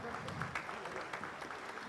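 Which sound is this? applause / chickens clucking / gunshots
applause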